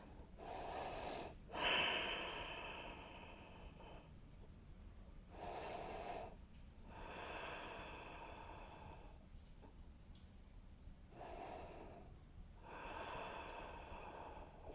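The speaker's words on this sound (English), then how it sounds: "Pulling back gently with this left shoulder. Big deep breaths." Slow, deep breaths come through the nose during a yoga neck and shoulder stretch, with about five quiet, airy inhale-exhale cycles spaced evenly and close to the microphone.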